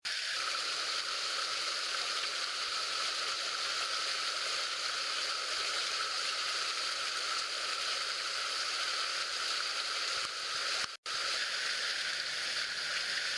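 Water runs through a repaired koi pond waterfall, giving a steady, close rushing and trickling hiss that stays constant, broken only by a very brief dropout near the end. No one speaks.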